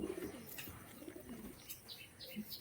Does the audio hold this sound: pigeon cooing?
yes